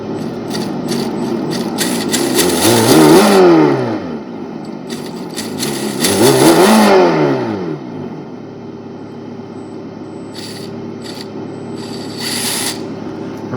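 A Redcat Gen 8 RC car's ESS One sound system produces a simulated engine note, swelling twice into loud revving bursts with falling pitch sweeps, then idling at a steady hum with a brief later blip.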